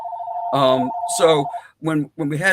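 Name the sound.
phone ringing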